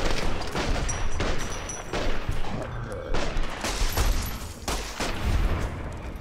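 Shotgun gunfire in the video game Fallout: New Vegas, a rapid series of sharp blasts spaced roughly half a second apart, loud and close, with brief pauses between volleys.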